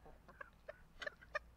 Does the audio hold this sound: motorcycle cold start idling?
no